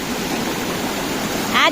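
Water rushes steadily along a village irrigation channel, a continuous broadband wash that stays even and close throughout, with a brief louder surge near the end.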